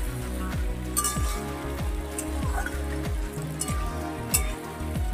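Arum root (kochu) pieces fry in a pan with a dense, rain-like crackle of hot oil, steady and close, under a low repeating mechanical thump, with occasional sharper pops.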